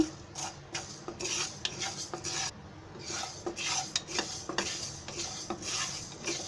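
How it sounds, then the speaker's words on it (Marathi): Fenugreek seeds dry-roasting in a pan, stirred with repeated scraping strokes of a spoon against the metal, a soft irregular rhythm of rasping sweeps with no voices. "मेथी चांगली हलवत राहायची"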